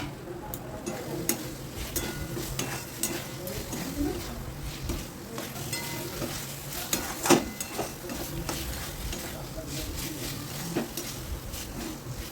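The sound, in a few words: fried potatoes added to spiced crab curry masala in pan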